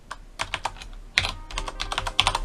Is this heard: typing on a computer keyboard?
yes